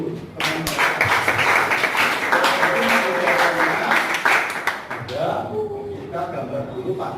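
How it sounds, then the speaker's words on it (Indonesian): Classroom applause from students, a sustained burst of clapping lasting several seconds before fading out, with a teacher's voice talking over it. "Oke, kasih tepuk tangan dulu."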